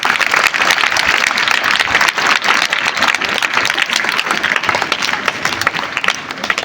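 An audience claps loudly and steadily in a sustained round of applause at a school speech competition, a dense wash of many hands with no pauses.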